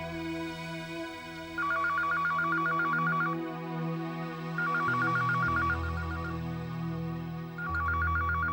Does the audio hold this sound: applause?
no